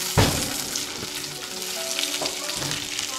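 Green chillies and capsicum frying in oil in a pan as they are stirred, a steady soft sizzle with a sharp utensil knock at the start and a few lighter scraping taps.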